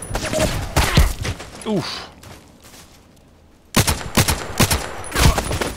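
Mortar strike in the Contract Wars video game, loud clustered booms and crackling impacts in two bursts separated by a quiet gap, with brief voices in between.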